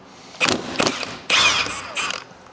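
A Milwaukee impact wrench fires in four short, loud bursts, rattling and whirring as it drives a bolt while replacing pitman and idler arms on a Duramax truck, with brief pauses between.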